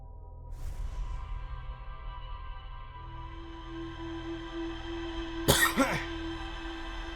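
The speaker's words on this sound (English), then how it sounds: "sorry for the big cough" A single sharp cough followed by a brief throat clearing, close and loud, standing out against a quiet background of steady electronic tones.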